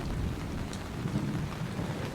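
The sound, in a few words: thunderstorm with heavy rain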